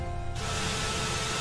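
A burst of catnip spray hisses out from a pump bottle and continues as a steady, close, bright spray, following a brief low-level quiet.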